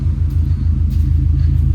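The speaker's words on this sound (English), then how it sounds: "Can't beat a boxer engine's noise." A Subaru boxer engine runs at a steady idle with a loud, deep, throbbing rumble and a close, even low pulse throughout.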